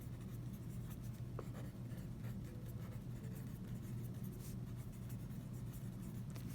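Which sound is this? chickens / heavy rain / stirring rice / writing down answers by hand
writing down answers by hand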